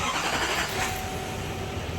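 An engine fires up and settles into a steady, fairly loud running note right after an oil change, with a broad continuous rumble and no pauses across the whole stretch.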